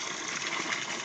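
Water flowing from a pipe, a steady close hiss and gush of running water held at an even level throughout, with no talk over it.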